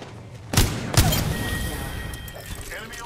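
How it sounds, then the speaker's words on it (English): Gunfire in the video game Apex Legends: two sharp, loud shots in quick succession, followed by a lingering rumble and faint scattered reports. "Shots fired and they're hitting me."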